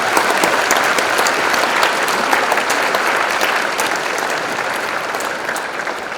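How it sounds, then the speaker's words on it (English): Sustained applause from a large audience at a Kenmore West High School Class of 2024 commencement ceremony, dense steady clapping filling the space, loud and continuous, tapering slightly toward the end. "a tremendous round of applause"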